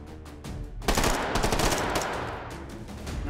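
Short bursts of automatic fire from a compact assault rifle in an online shooter game, a loud rapid rattle starting about a second in and continuing steadily, with no talking over it.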